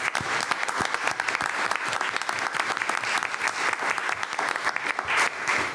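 Loud, dense applause from the audience at a school board meeting honoring high school cheerleaders, sustained and even throughout with crisp individual claps standing out and no voices on top.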